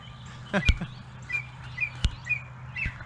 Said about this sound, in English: I don't have to hear that bird up there.